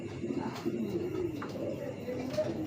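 Racing pigeons at a farm coo softly and continuously in low murmuring bursts, a steady cluster of calls close by with faint background noise.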